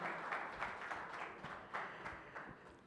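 Audience applause at a stage event celebrating the Seetimaarr film's success: steady, fairly faint clapping from a crowd, with louder claps surfacing now and then over the continuous wash.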